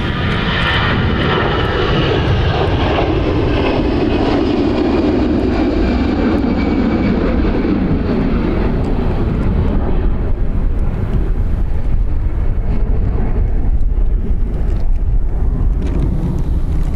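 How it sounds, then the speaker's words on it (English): A Ryanair airliner departs Dublin Airport, its engine roar loud and steady throughout with a broad rumbling swell, wind buffeting the microphone, and no voices. "Next Ryanair off to Grenoble."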